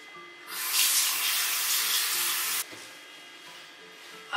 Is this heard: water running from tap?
yes